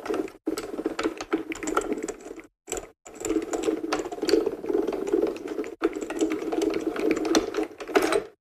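A die-cutting machine runs a shaped card through for a spider web design, giving a continuous close rattling, grinding mechanical whir with a few brief gaps, alone without talk.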